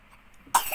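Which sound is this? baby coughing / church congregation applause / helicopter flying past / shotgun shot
baby coughing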